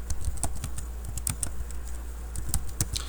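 Fingers typing a file name on a computer keyboard, a close run of quick, uneven key taps with a low hum underneath.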